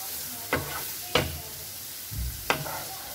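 Onions sautéing in a pan, the only addition being a little salt, give a soft steady sizzle broken by three sharp scraping stir strokes and one dull low thud, close and clear with no talking.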